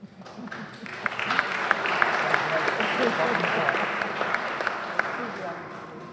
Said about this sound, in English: By Mayor's executive order, you may clap.